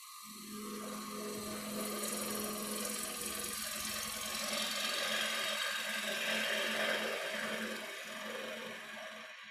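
A wood lathe spins a turned bowl, a steady whirring hum with a strong low tone and broad rasping hiss running continuously throughout, fairly close and alone.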